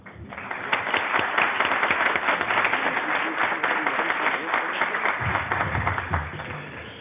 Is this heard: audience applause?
yes